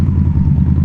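A 2018 Indian Scout with a 1133cc 100 horsepower V-twin cruises along, its engine a steady, loud, close low rumble with no break.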